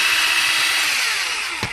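Homemade fan made from an electric drill with a sock attached, spinning with a loud, steady high-pitched motor whine that slowly winds down, ending in a short knock.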